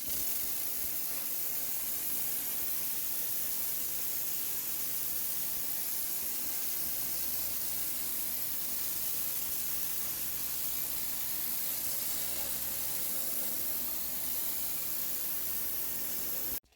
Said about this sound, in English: Let's try the Karcher dirt blaster lance now.